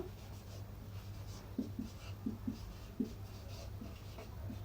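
Soft scratchy strokes of writing on a board during a seventh-grade maths lesson, a few short marks in irregular clusters, faint and close over a steady low hum.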